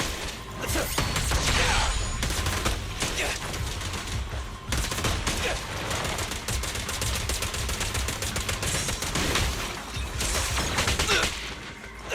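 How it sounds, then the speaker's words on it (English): Rapid gunfire from the video game Zenless Zone Zero rattles on in dense, continuous bursts with crashes and mechanical clatter, loud and close, with almost no talk. "Quit moving! I've got plenty of bullets!"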